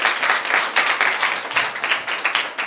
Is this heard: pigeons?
no